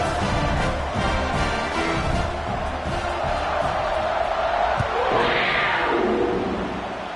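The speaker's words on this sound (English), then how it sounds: "this crowd is buzzing after that last score" A college football stadium crowd buzzing after a score, a dense continuous roar with swells of cheering and whoops, heard throughout at high level.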